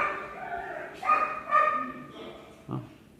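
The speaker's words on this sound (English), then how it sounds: "There are like 3 dogs in here." Several dogs indoors at a home in Rio, giving a few short barks and yips close by, with brief whimpering between them.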